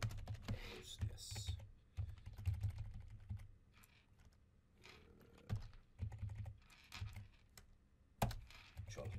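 Close, faint typing on a computer keyboard during server setup, with irregular clusters of light key clicks and taps and short pauses between them.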